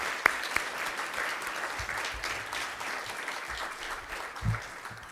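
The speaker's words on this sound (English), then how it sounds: "We just want to say a little bit of a special welcome with seconds of applause." Steady audience applause welcoming newcomers at a livestreamed gathering, a dense, even patter of many hands clapping alone for several seconds with a few sharper claps near the start.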